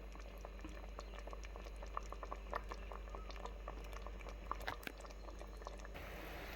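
A pot of fish curry bubbles steadily at a low simmer, with soft popping and crackling bursts throughout, close and fairly quiet.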